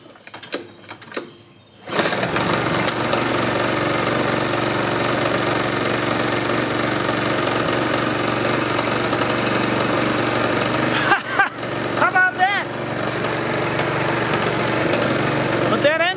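A small lawn mower engine, damaged after hitting something, starts up after a few clicks and runs loud and continuous, with a ragged, uneven chug; a voice briefly speaks near the end.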